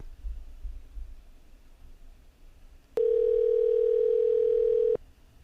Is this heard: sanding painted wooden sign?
no